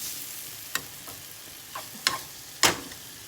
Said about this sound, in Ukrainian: Морква, цибулька і трошки муки. Чуть-чуть олії хай воно потушиться добре.